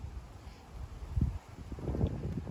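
Wind gusting outdoors across a microphone at a pigeon flying session, a low rumbling buffet that rises and falls, fairly faint, with no voices.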